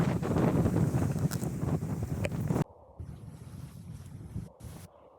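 A sailboat under full mainsail and genoa making five and a half to six knots at sea between Raivavae and Papeete, heard as a loud roar of wind and rushing water close to the microphone, then a quieter, steadier wash.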